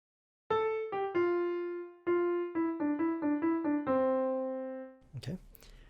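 A piano plays single-line melody notes from a Bollywood song, clear and close. The notes come in a held, syncopated rhythm, and a short voice sound follows at the end.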